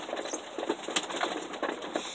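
Pet pigeon cooing and calling nearby, a few soft low notes over a bright steady background hum, with a brief wing flutter and no speech.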